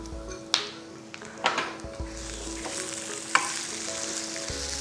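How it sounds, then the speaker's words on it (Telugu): Curry leaves and finely chopped onion fry in hot oil for Andhra-style peanut chutney, giving a steady close sizzle with a few sharp clinks and scrapes of a spoon against the pan, and no voices. "ఓ 2 రెమ్మల కరివేపాకు, ఒక ఉల్లిపాయ చిన్న ముక్కలు తరిగి వేసేద్దాం"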